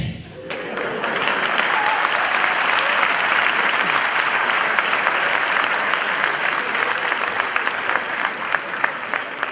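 An audience bursts into sustained clapping that starts sharply, holds loud and dense for several seconds, then thins slightly toward the end, with some faint voices mixed in.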